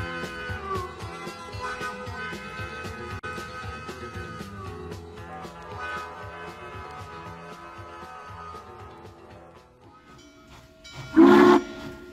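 A Norfolk & Western 611 Class J steam locomotive rumbles and chuffs steadily, then a sharp, loud burst of whistle and hissing steam cuts in near the end.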